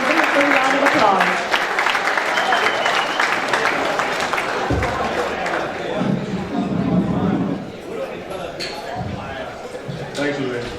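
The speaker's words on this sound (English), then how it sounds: "Give him a big round of applause." Applause from an event audience welcoming the angling club president at the Cayman Islands International Fishing Tournament, a dense, steady wash of clapping and crowd chatter that stays loud throughout and eases slightly near the end.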